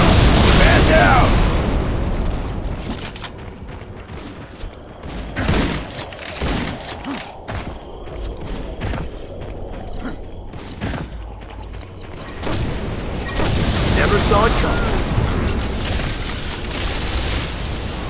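Gunfire and explosions from an Unreal Tournament 3 team deathmatch on the Crucible map: dense, continuous booms and rattling bursts that swell and ease, with loud blasts near the start and again after the middle.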